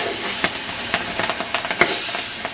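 Cold water is poured into a hot pot of homemade tamales, and steam hisses and sizzles close by, with a steady hiss broken by scattered sharp pops and crackles.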